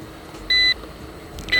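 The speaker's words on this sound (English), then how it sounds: "The annoying beep of headless mode" A Syma X14 RC quadcopter entering headless mode gives a short, clear electronic beep, then starts a second beep as the clip ends, over faint background hiss.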